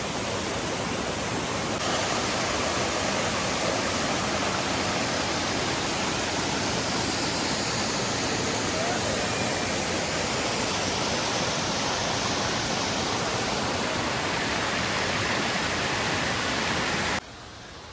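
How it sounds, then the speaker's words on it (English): Gibbs Falls on a White Mountains hiking trail, a loud, unbroken roar of falling water filling the whole stretch, steady and near, with no talking. "Just finishing up our break here at Gibbs Falls."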